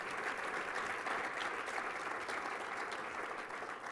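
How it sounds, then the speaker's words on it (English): An awards-ceremony audience applauds steadily, a dense wash of clapping at even strength that holds throughout without pause. "Let's give them a round of applause as well."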